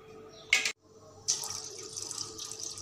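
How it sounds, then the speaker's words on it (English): Water poured from one cooking pot into another while making vegetarian tom yum soup: a short splashy burst, a brief pause, then a steady gurgling pour that continues to the end, close by. "now we're going to take this pot of water and pour into"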